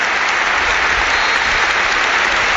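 Tens of thousands of spectators at a France v Albania football match in a stadium applaud in a dense, continuous roar of clapping, loud and unbroken, with no distinct voices standing out.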